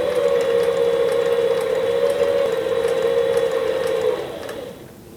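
A Sailrite leather sewing machine stitches leather at a reduced stitch length, giving a steady, continuous mechanical whir with a constant pitch that runs at close range and then slows and fades near the end.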